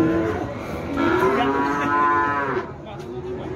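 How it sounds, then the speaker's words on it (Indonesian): Cattle at a busy livestock market moo loudly and close by, one long drawn-out bellow rising and falling over a low murmur of animals and background bustle. "kita lihat penampakan sapi-sapi ini kan"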